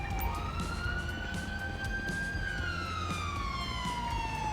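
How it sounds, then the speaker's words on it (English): An ambulance siren in the police-mod game GTA V LSPDFR wails loudly and steadily at close range, its pitch sweeping slowly up and then back down over continuous engine and ambient game noise. "So here's the ambulance."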